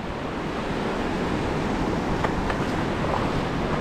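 Calm sea waves wash onto the shore with a steady, broad rushing hiss, close and continuous, with light wind noise and no voices.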